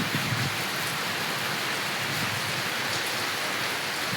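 Steady rain falling on a scene cool with wind after a long dry spell, a dense, even hiss filling the whole clip at constant loudness with no voices or distinct drops standing out.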